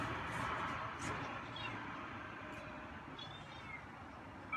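A feral cat meows faintly a few times against a low, steady background rumble, the calls short and soft.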